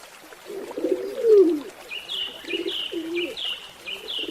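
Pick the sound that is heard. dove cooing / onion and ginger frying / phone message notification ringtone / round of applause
dove cooing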